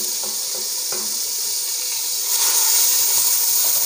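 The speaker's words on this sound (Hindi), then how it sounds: "अब इसी पैन में मैं टमाटर डालूंगी और साथ में सब्ज़ मिर्ची, और इनको भी हम 1 से 2 मिनट के लिए फ्राई कर लेंगे।" Tomatoes and green chillies fry in a hot pan for egg korma, giving a steady loud sizzling hiss that swells slightly toward the end, with no talking.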